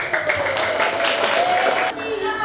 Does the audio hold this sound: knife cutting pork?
no